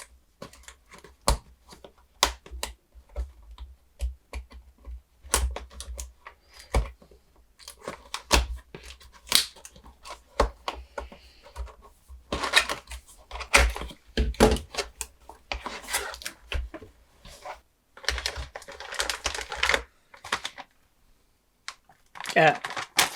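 Graphics card being unboxed, with scattered rubbing, tapping and crinkling of cardboard box and plastic packaging as it is opened and handled close by, in irregular bursts with brief pauses.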